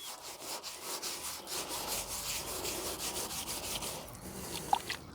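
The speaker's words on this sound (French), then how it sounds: "je suis en train d'enlever la mousse" Moss being scrubbed off an old painted sheet-metal sign from the 1960s, a steady rhythmic rasping and rubbing of repeated strokes, close and fairly quiet.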